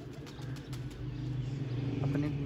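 Pigeons near a trap net give low, steady cooing close by, a repeated soft throaty drone that carries on throughout with faint background noise.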